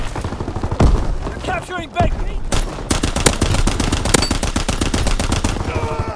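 Sustained gunfire in a Call of Duty WWII multiplayer match, rapid machine-gun bursts and single shots crackling continuously amid explosions and radio-style voice callouts.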